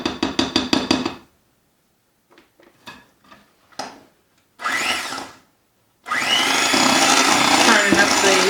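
Electric mixer beating chocolate cake batter with mayonnaise added: short rhythmic clatters first, brief starts and stops, then the motor whirs steadily and loudly at a higher speed.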